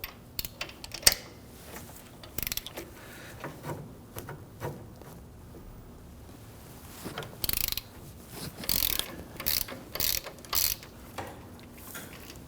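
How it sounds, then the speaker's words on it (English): An 18mm socket on a ratchet loosens the lower brake caliper bracket bolt on a 2005-2010 Chrysler 300, with close, rapid clicking bursts in uneven spurts and pauses between them, no talking. "we're going to use our 18mm socket to loosen and remove this lower bolt"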